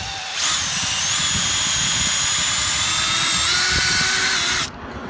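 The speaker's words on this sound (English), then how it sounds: "And we're going to drill into about right there." A power drill whines at a steady high pitch for several seconds, boring into a maple tree trunk close by with a grinding undertone, then abruptly stops.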